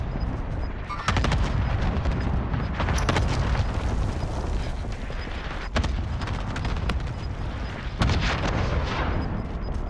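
Cluster strike explosions in the video game Call of Duty: Modern Warfare, a rolling barrage of loud booms and rapid blasts with several sharp onsets, dense and continuous without speech.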